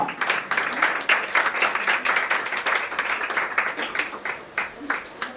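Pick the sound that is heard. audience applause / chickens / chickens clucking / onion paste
audience applause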